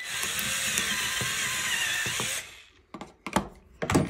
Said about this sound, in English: I'm actually gonna just use the bigger drill bit for now and go slow